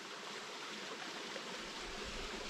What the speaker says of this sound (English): When I see a little waterfall like that